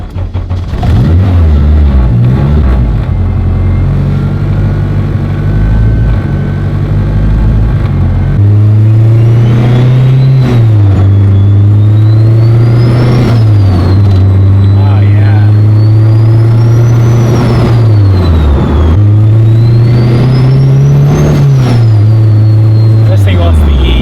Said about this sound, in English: Gotta rev it.